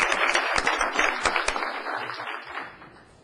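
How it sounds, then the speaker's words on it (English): An audience at a Ferndale city council meeting applauds 15-year veterans of city service, a moderate scattering of hand claps in a meeting room that tapers off after a few seconds. "Let's give a round of applause for those 15-year veterans."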